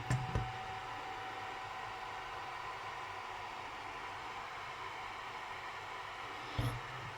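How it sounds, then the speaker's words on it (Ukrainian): A steady, broadband whirring hum from the cooling fan of a 360W VEGA-360 Horoz Electric power supply runs throughout, fairly quiet, with a couple of brief clicks near the start and end. "Ось такий ось звук буде давати наш блок живлення"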